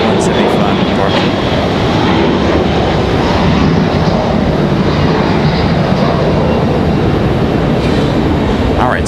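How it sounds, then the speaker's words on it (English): Embraer E175 jet departing Raleigh-Durham International Airport, a heavy rumbling engine roar that stays steady and loud throughout, with a few brief crackles near the start and end. "Let's get this last E175 departure"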